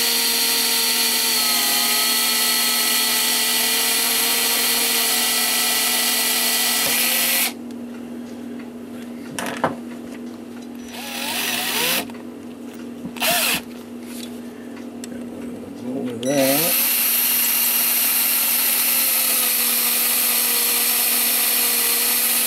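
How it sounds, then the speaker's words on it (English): A hand reamer works a hole in a New Haven drop octagon clock part, giving steady scraping, rasping strokes that alternate with quieter gaps and faint clicks, loud and close with no talking. "doesn't matter whether I ream this out from the inside or outside, because this isn't a tapered reamer"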